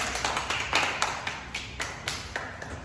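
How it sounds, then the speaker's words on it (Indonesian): Classmates clap for one another after a school drama performance in a micro-teaching class: a short, thin patter of separate hand claps, fairly near and modest in volume, from a small group. "tepuk tangan untuk teman-teman"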